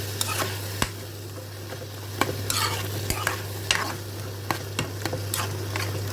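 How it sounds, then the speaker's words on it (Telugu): Spiced food is stirred in a pan with repeated scraping and clinking spoon strokes over a steady low hum and light sizzle, all close by with no talking. "మొత్తం కలుపుకుని"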